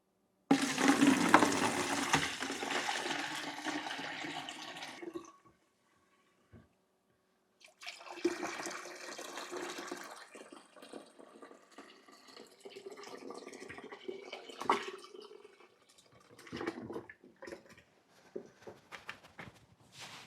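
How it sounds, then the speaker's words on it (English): Brine is poured into a briner pail for a holiday turkey. Liquid gushes for about five seconds, then after a pause a quieter, uneven pouring and splashing follows, heard alone. "we've got all of our brine in our briner pail"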